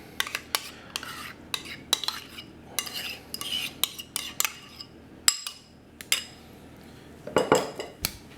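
Utensils mixing Asian-inspired coleslaw in a bowl, with repeated close clinks and scrapes of metal against the dish in an irregular rhythm and no talking.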